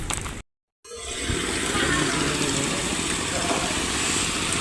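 A motorcycle engine runs at a farm in Tarlac, a steady, loud, broad rumble that starts after a brief moment of silence and holds without change to the end.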